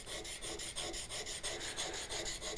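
Steel knife blade rubbed perpendicular to the edge across a 400-grit whetstone worked into a slurry, giving a steady, close rasping scrape in repeated strokes about five times a second, with no voices.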